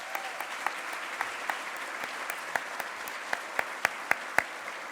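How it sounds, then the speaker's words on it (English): Applause from an audience at a charity breakfast event, thanking children after a dance performance: a steady, fairly faint wash of clapping with sharper individual claps standing out near the front, continuing throughout. "I just want to do one more clap and say thank you to the kids"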